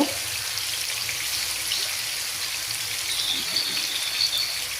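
Fish pieces fry in oil in a pan over a medium flame, giving a steady, close, broadband sizzle with fine crackling that holds evenly throughout, no voices present.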